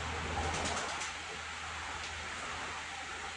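A pigeon gives soft, faint cooing over steady background hiss, with a brief flutter early on and no voices.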